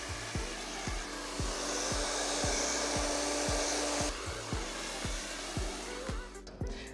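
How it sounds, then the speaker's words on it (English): Hair dryer blow-drying thick long hair, a loud continuous close whoosh with rhythmic brushing strokes repeating roughly every half second, briefly shifting airflow near the end. "Simone, look how great your blow dry looks"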